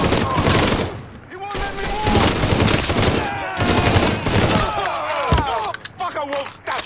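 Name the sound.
gunfire in the video game Mafia 3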